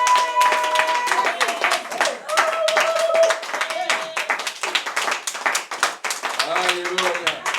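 A church congregation claps to acclaim the Lord in steady, rhythmic bursts, with voices sounding over and between the claps.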